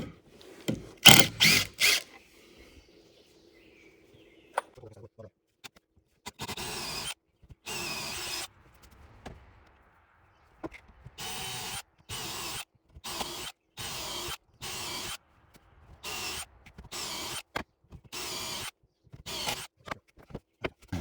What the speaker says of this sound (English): I'm gonna just drive one of these home